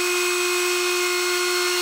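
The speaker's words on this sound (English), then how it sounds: "I'm using a Dremel here with a 2mm bit, and I'm drilling holes around the side," A Dremel rotary tool with a 2mm bit drills holes around the side of an animatronic head model, making a steady, close, high-pitched motor whine that does not change throughout.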